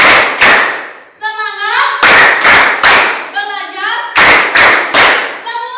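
A class of children clapping in a school classroom, loud bursts of rhythmic applause broken up by kids chanting together in between.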